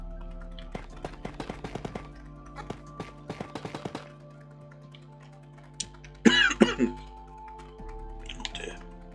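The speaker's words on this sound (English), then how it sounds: "Got a bit of a tickly cough today." A tickly cough, a few loud harsh bursts close to the microphone, following a run of sharp clicking taps, with some quiet background hum.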